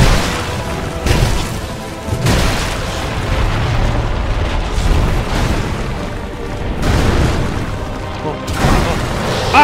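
Dragon fire attack in the video game Dark Souls 2, a sustained roaring, rumbling blast with bursts of boom-like impacts over several seconds, loud and continuous with game noise behind it.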